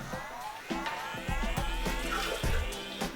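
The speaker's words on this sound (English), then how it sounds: "Let's start with 100 milliliters of water" Hot tap water poured into a glass jar with sugar at the bottom, a close, steady splashing pour with gurgling bursts and a few knocks, running the whole time.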